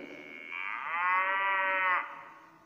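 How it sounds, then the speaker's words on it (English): A cow gives one long, loud, close moo that swells in the middle and fades off at the end. "This is cow. Cow, give us milk."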